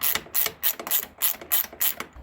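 A ratchet loosens a small 10 mm bolt holding the seat of an Xpro Templar X motorcycle. It gives about seven quick, close bursts of crisp clicking with short pauses between them, and no talk.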